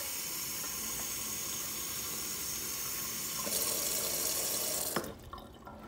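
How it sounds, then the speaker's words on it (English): Water pours steadily over sugar with a bright, hissing splash for several seconds, swelling briefly before cutting off abruptly. "Pour the water in, right over the sugar."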